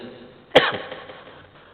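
A single sharp cough from a man giving a religious talk, close and brief, standing out against a quiet room with a faint throat-clearing tail afterward.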